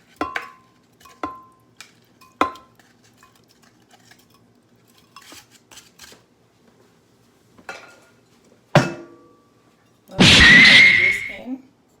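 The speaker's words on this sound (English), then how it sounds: "So I'm gonna put the mango in the blender." Mango is put into a blender jar for a mango orange juice, with a few sharp clinks and knocks, then a thud and a louder rattling burst near the end.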